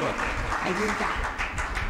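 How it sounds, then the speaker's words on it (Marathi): Thin, scattered applause continues from an audience at a poetry-collection book launch, clapping somewhat uneven and mixed with faint crowd murmur. "नाही कमी येतोय, अजून सुद्धा खूप कमी येतोय."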